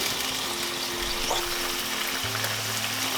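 Miso and sake sizzle gently in a hot pan as the miso melts, a steady soft frying hiss with faint bubbling, close and quiet, with no talking.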